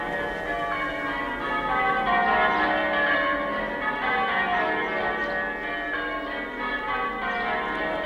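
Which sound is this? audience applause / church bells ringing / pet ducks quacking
church bells ringing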